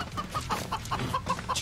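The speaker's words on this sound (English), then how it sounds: "Chicken!" Chickens cluck in the co-op video game Moving Out. The short, repeated clucks come in a quick, fairly regular rhythm, close and clear, with no talk.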